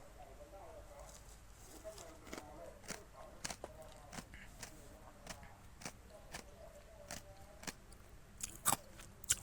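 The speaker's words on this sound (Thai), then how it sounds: "ถ้าทุกคนได้ยินเสียงผม เคี้ยว นะ" Ice being chewed comes as a series of faint, irregular crunchy clicks under a quiet background hum, spaced out over several seconds with a few louder crunches near the end.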